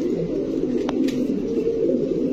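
Fancy pigeons of breeds such as Danish, Beauty and Maltese coo together at a pigeon farm, a low, continuous murmur of overlapping coos close by with no talk.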